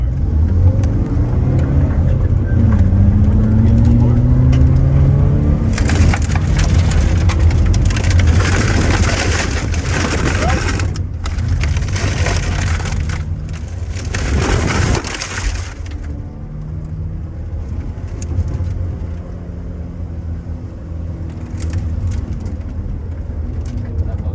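An all-wheel-drive Subaru rally car at a rally school powers through gravel turns, its engine revving and easing off while loose stones crunch and spray loudly beneath the tires.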